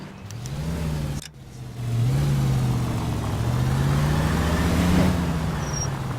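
A car engine in L.A. Noire drones steadily, dips briefly, then accelerates with a rising, wavering pitch, loud and close, with no talking.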